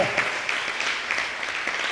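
Applause in a TV studio during a Pentecost special, a short burst of even clapping that carries through the whole moment, slightly distant, with no voices over it.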